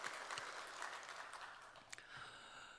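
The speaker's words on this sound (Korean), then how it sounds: "우리 찬양 받으신 주님께 영광의 박수 올립시다" Church congregation at a Sunday worship service applauding, soft and fairly distant clapping with a few sharper claps standing out over a faint background.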